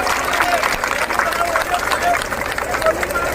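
A rally crowd of marching teachers from a Rajasthan union, protesting UPS, claps loudly together, producing a dense, steady wash of applause mixed with crowd hubbub throughout.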